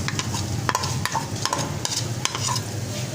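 Ground garlic and ginger fry with onions in a pot for chicken nargisi pulao while being stirred. A close, steady sizzle runs under quick, repeated scraping strokes, with no voices.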